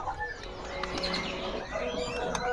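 Sumatran cucak jenggot birds calling from stock held for sale, with short chirps and whistled notes over a busy, noisy background, fairly close, no talk.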